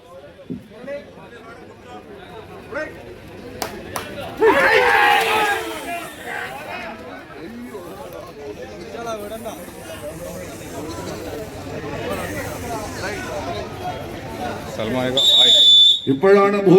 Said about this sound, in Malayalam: Guys, make some noise.